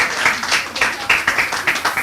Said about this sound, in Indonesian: Boleh kasih semangat tepuk tangannya buat kita semua.